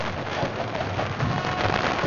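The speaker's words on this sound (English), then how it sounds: "the rain that tonight's going to make the ball a little slick" Steady rain pours over a night high school football game between Colerain and St. Xavier, a dense, even hiss filling the air with no pauses and a low background rumble beneath.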